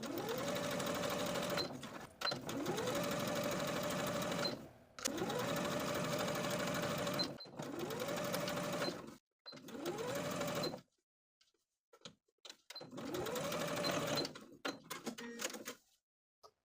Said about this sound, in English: Now we're going to take it to the sewing machine and sew in the pressed line on our bias tape